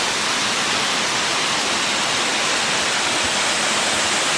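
A loud, steady rush of falling water pours continuously at a waterfall in Tahiti, a dense broadband roar heard up close with no let-up.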